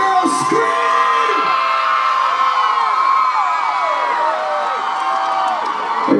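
Loud concert crowd at a show screaming, whooping and cheering continuously, a dense wall of high-pitched yells from many people filling the space.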